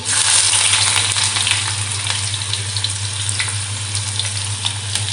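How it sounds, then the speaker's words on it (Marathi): Onion and curry leaves fry in hot oil, giving a bright, dense crackling sizzle that stays close and loud, over a low steady stove hum, with nobody speaking. "कांदा आपल्याला तेलावर छान असा परतून घ्यायचा आहे"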